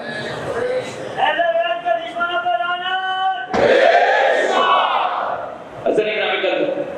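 A crowd at a religious gathering chants slogans in unison, loud sustained voiced calls rising and falling in a few long phrases with short breaks between them.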